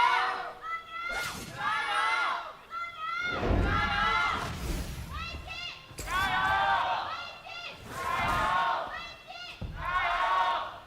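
Large esports arena crowd at a League of Legends LPL match, Suning Gaming versus Vici Gaming, swelling in waves of loud cheering and chanting with shouts, a commentator's voice occasionally mixed in.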